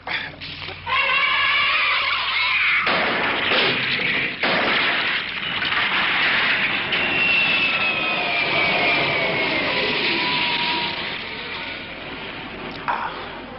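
Loud, sustained roar of jet bombers passing overhead in a TV series, with a whooshing, sweeping drone that swells and fades, mixed with brief noisy bursts.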